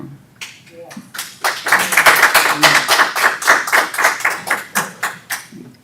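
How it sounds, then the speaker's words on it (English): An audience claps at a school district board of education meeting: dense, rhythmic clapping swells loud and steady, a little uneven, after a brief quieter start with a few scattered claps. "now I'm glad that that they're all clapping for him"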